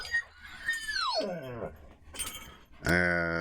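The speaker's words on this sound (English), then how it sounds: "Just an excited dog behind me." An excited dog nearby gives a falling whine that slides into a growl, then a sharp bark at the end, rising over quiet room sound.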